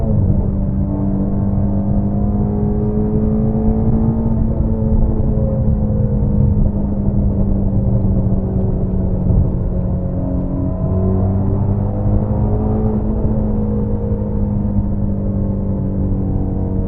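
A Ford Mustang GT350 engine drones loud and steady at high RPM on a highway, a constant deep roar with slight changes in pitch and no talking.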